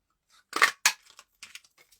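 A handheld paper punch cuts a shape out of paper twice, giving two crisp, close crunching snaps about a quarter second apart, followed by faint paper rustles.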